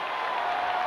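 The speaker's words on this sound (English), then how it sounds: "listen to this crowd in Baton Rouge" A stadium crowd roars at LSU in Baton Rouge during a 1991 college football game against Florida State, a loud, dense, sustained wash of cheering heard only briefly.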